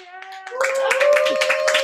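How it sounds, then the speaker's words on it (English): Applause from a remote online audience on a video call, a bright burst of clapping that swells in after a held tone and continues steadily, mixed with some voices. "give a big round of applause to all of our artists who performed tonight"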